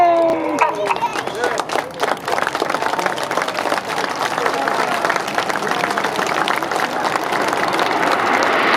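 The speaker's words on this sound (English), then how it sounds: "hopefully a huge round of applause" An outdoor crowd at the Red Arrows display at the 2014 Sunderland Airshow claps and applauds steadily throughout, with scattered crowd noise mixed in.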